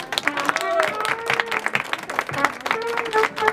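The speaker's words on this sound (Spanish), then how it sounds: "El aplauso otra vez para ellos," Party guests at a Mexican quinceañera clap for a youth mariachi band, scattered hand claps mixed with loud cheering and chatter, voices and shouts running over the uneven clapping.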